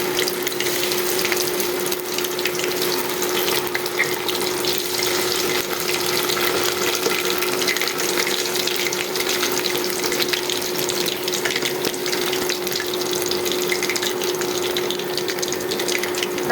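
Cauliflower pieces frying in hot oil give a steady, dense sizzle with a faint constant hum, unbroken and fairly loud throughout, with no talking.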